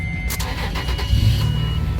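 A car engine cranking on a portable jump starter booster, a loud, close, churning burst of the starter turning over that builds and stays heavy to the end, with no voices.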